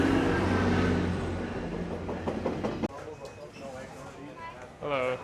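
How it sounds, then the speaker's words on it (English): A train pulls into a station with a loud rumble and rolling clatter that suddenly drops off, leaving quieter station noise and brief voices near the end. "but the train's here."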